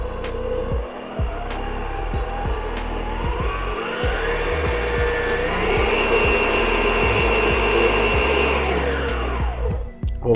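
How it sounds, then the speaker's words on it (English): An electric mixer beats cream cheese, sugar and sugar cookie dough, whirring loudly and continuously as it starts slow and then rises in pitch with added speed, with rhythmic clicking throughout. "Let me go ahead and mix this in now. Again, start out slow and then add up some more speed."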